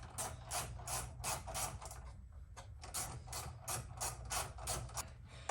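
An oil catch can fitting on a BMW 335i is tightened with quick, continuous ratcheting clicks in close, quiet bursts, briefly pausing before the clicking resumes.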